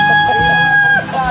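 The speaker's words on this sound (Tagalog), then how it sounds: "Daming manok dito." Chickens cluck and call nearby while a rooster crows, overlapping with a steady high-pitched electronic whine.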